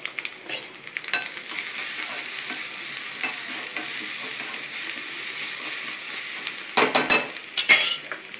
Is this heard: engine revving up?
no